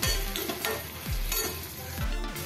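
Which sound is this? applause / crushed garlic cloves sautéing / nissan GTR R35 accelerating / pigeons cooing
crushed garlic cloves sautéing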